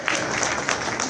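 A crowd at a Congress protest sit-in against corruption in Jaipur applauds with dense, steady clapping that stays loud and continuous for the whole short stretch.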